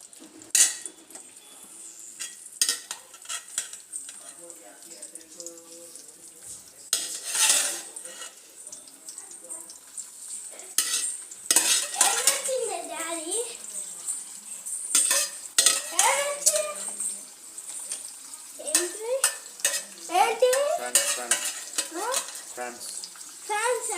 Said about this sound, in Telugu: డీప్ ఫ్రైకి సరిపడా ఆయిల్ అండి. ఇప్పుడు వేయించుతుంది.